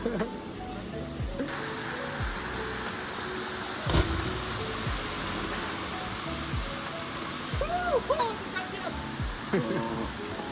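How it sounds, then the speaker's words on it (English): Spring water flows in a steady broadband rush near Antalya, Turkey, with occasional clatters and faint voices in the background. "people around us were collecting water from the spring"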